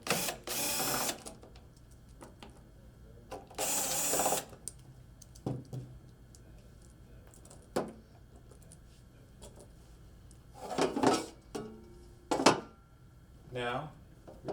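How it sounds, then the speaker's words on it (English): Screws are removed from the bottom of an ultrasonic humidifier unit in several short, loud mechanical whirring bursts, separated by quieter stretches with faint clicks and handling noises. "We're simply going to remove the screws."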